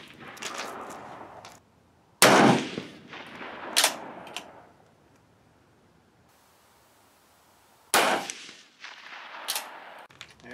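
A Swiss K31 rifle fired with a rear diopter sight: two sharp, loud reports several seconds apart, each with a short echoing tail, plus a softer crack between them and quiet gaps.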